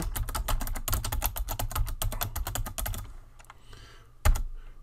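Steady, fast typing on a computer keyboard while writing web page HTML, crisp close key clicks in a dense run for three seconds, then a few scattered taps and one louder key strike near the end.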